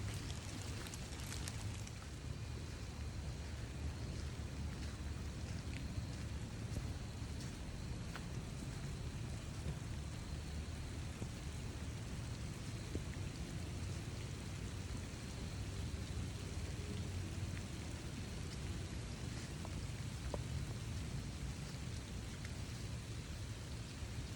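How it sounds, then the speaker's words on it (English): Rain falls steadily on a forest trail, a constant dense hiss with soft patters and occasional drips, faint and unbroken throughout with no talk. "Oh, it is raining."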